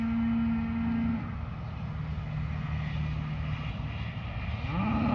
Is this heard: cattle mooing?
yes